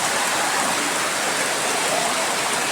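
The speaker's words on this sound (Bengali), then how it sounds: "বৃষ্টি শুরু হয়ে গেছে দেখুন" Rain falls steadily outdoors at a home, a dense even hiss of drops on surfaces that holds at a constant, fairly loud level with no voices.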